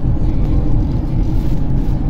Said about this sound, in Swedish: Så där kommer en lastbil.